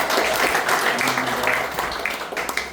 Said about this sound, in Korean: 우리 서로에게 환영의 박수를 보내드리면서 용산 포럼 시작하도록 하겠습니다.